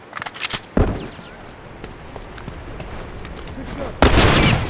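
Gunfire from The Last of Us Remastered video game: a sharp burst of shots near the start, a quieter stretch with faint clicks and movement, then a loud, sustained volley at the end.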